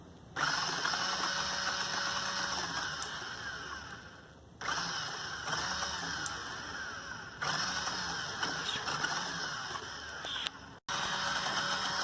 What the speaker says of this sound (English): We have the motor moving